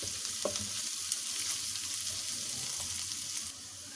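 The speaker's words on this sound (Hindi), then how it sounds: "इसको भी 1 मिनट के लिए इसके साथ हम फ्राई करेंगे।" Ginger garlic paste frying with softened onions in a pan, a continuous close sizzle with light stirring scrapes, steady and moderately loud, then dropping slightly near the end, with no talk.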